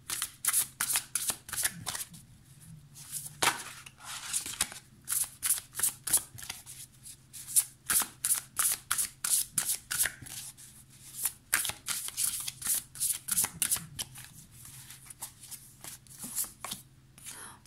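A Beautiful Creature tarot deck being shuffled by hand, rapid crisp riffles and slaps repeating in bursts, close up, with occasional soft speech between.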